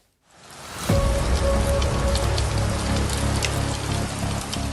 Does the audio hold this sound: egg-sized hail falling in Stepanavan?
yes